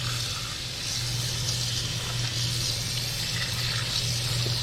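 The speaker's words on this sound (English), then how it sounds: "Then we just turn on our water," Tap water runs steadily from a faucet to rinse a freshly cleaned speckled trout, a continuous close hiss and splash with a low hum underneath, no talking.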